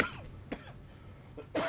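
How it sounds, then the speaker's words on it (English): A person coughs a few times in short, dry bursts at close range, with a pause between and a stronger cough at the end. "Just my cough came back."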